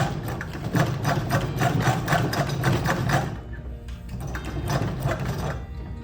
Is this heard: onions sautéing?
no